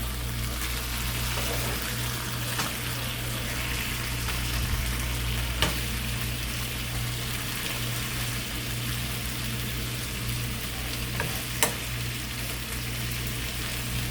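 Salmon steaks fry in a pan with a constant, close, even sizzle and a couple of faint clicks, no talking.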